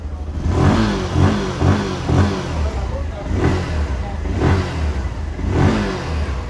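A Bajaj Platina 100 motorcycle engine revs up repeatedly in rhythmic surges, loud and close, each burst rising and falling.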